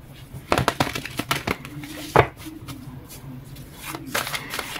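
Tarot cards riffle and shuffle in several quick bursts at close range, with faint birdsong and a low background hum.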